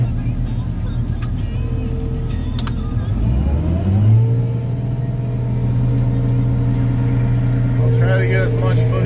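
A farm machine's engine runs continuously nearby during spring fieldwork, a steady low rumble that rises in pitch partway through as it revs up, then holds a sustained droning tone.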